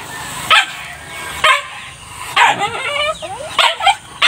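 Guard dogs at a small roadside home in the province bark and yip in sharp, close bursts, with whimpers between barks and a person's voice heard alongside.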